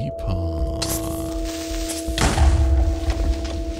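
A Minecraft creeper explodes in one deep, booming burst partway through, then rumbles briefly. A steady game hum and a voice continue underneath.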